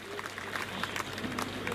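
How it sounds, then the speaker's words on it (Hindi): Audience clapping to welcome a guest at a political nomination rally, a brief burst of steady crowd applause with faint background noise. "जोरदार तालियों के साथ इनका स्वागत करिए"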